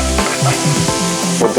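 Garlic sizzles loudly up close in a hot frying pan, with stirring scrapes over the steady crackle.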